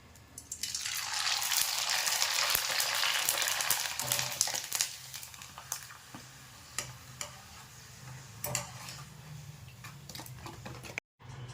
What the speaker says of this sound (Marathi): इथं मी आपले तुम्हाला काही पापड आहे ते तळून दाखवले आहे